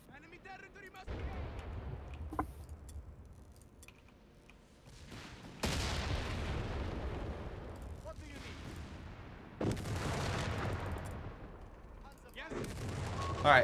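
Artillery barrage and gunfire in the video game Company of Heroes 3, set on the Benghazi map, with heavy rumbling blasts and dense crackling fire rising in loud waves through the battle.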